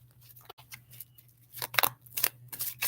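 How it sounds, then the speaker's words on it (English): Tarot cards being shuffled by hand, a series of crisp riffling and flicking bursts that grow louder and more frequent toward the end, over a steady low electrical hum. "I'm shuffling up."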